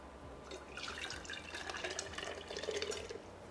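Tea trickles and drips through a small strainer in a faint, continuous liquid patter close by, with no talking.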